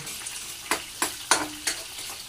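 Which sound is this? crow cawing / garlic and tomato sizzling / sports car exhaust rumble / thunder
garlic and tomato sizzling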